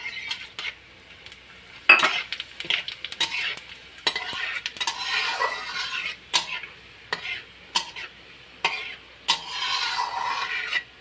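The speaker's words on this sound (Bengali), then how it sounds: "গোটা গরম মশলা ফোড়ন করে নেব" Whole spices, bay leaf and cumin tempering in hot oil for biryani, with bursts of sizzling and crackling broken by stirring and the clink of a utensil against the pot.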